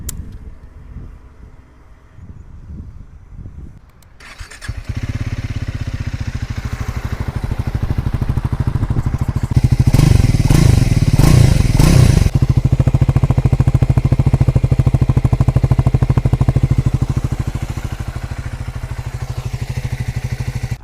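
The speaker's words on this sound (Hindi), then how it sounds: "चलो इसी बात पे बाइक को ऑन करता हूँ और इसका एग्जॉस्ट नोट भी आपको सुना देता हूँ।" A Triumph Scrambler 400X motorcycle fires up a few seconds in and settles into a steady, throaty idle. A short, louder rev follows midway before it drops back to idle, close to the mic with some wind noise.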